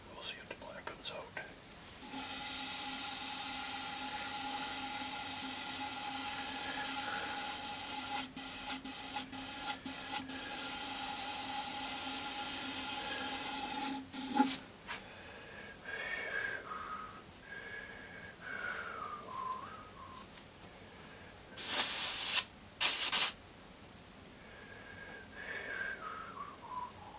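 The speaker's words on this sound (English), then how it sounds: "I have a very small air compressor here" A small air compressor drives an airbrush spraying black paint onto an old jacket, a steady hiss that runs unbroken for about twelve seconds, cuts off, then returns as a few short bursts among quieter handling noises.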